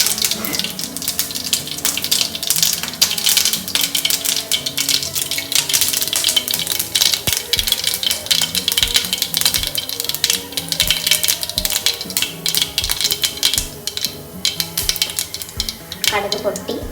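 Mustard seeds popping and crackling in hot sesame oil in a pan while a Sundakkai Kuzhambu tempering is prepared, a dense steady run of sharp spattering ticks that lasts throughout at close range, with occasional voices faintly behind it.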